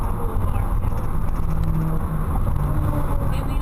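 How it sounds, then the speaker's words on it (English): Two cars race past on a Connecticut street, engines roaring loud and close with a steady low rumble and rising whir, heard from inside a vehicle. "Whoa, street race? Yeah, both of them sort of racing around like..."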